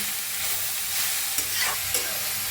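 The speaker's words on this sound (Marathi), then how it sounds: "वटाने बी भाजून घेऊया हलवून भाजून घेऊया" Green peas roasting in a pan while being stirred, a steady close sizzle with a few scraping clinks of the spoon, no voices.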